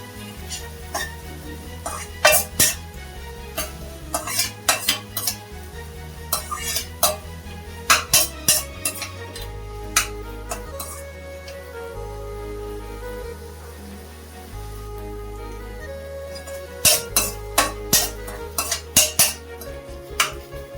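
Finely chopped onions sizzle steadily in a pan for vegetable fried rice while a utensil stirs and scrapes against the metal in repeated bursts, with no one speaking.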